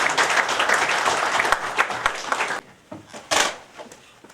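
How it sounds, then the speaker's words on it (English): A crowd applauds steadily at a signing ceremony, dense clapping that fades after a couple of seconds into a few scattered claps. "I request everyone to kindly put their hands together."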